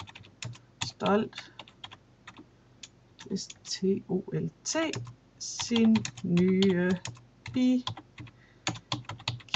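Computer keyboard typing in bursts of quick clicks while entering a photo album name, with a Danish-speaking voice talking over most of the keystrokes.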